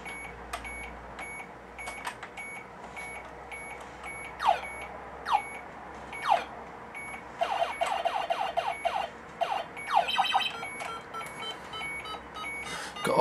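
Beeper sound effects from a space shooter game on an Acorn Electron home computer: a steady high tone with repeated falling zaps and clustered bleeps, moderately loud and without speech.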